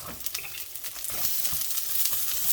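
Lap cheong sausage and onions frying in a wok over medium heat, a dense crackling sizzle with quick popping spatters and stirring, close and steady with no voices.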